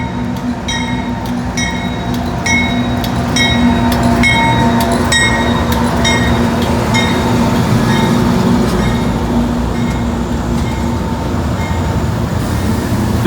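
Model trains running along a street layout behind three Geep locomotives, with new gondola cars and a boxcar in the consist: steady rolling rumble, with repeated clicking and clacking from wheels and track joints running throughout.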